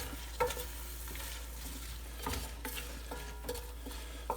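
Chopped onion with a dash of salt softens in a pan for creamed spinach, giving a faint, steady sizzle under quiet stirring, with a few light utensil scrapes and clicks.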